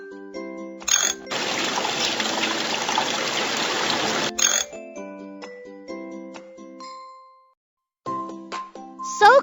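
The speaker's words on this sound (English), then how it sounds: "Put some water into the basket." Water pours in a steady hissing stream into a laundry basket for a few seconds, framed by bright tinkling chime notes before and after, with no talking.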